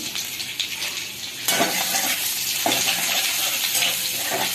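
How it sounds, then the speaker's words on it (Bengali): Ginger and chillies frying with garlic in a pan on a home stove, a soft continuous sizzle broken by scraping stirs and a clatter partway through, close up with no talking. "আদাটা ভাজা ভাজা হয়ে গেলে"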